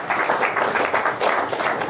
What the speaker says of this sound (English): I don't know if I'm worthy of an applause